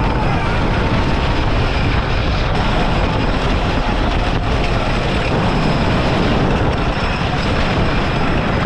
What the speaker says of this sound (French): Timber, un roller coaster à l'ancienne en bois où on entend le bois craquer dans les descentes